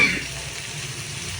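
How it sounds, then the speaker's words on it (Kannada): Onion and tomato fry in a pan with a loud, continuous sizzle heard up close, and the hiss stays steady with no talking. "ಟೊಮೊಟೊ ನೀಟಾಗಿ ಫ್ರೈ ಆಗಲಿ ಅಂತ. ಸಾಫ್ಟ್ ಆಗಬೇಕು ಟೊಮೊಟೊ."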